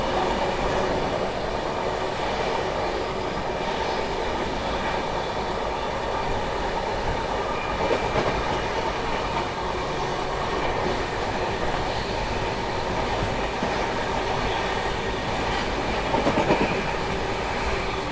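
Kolkata Duronto Express running on rails near Tundla Junction, a continuous loud rumble of wheels with rhythmic clickety-clack and occasional faint squeals throughout, heard from on board with no voices.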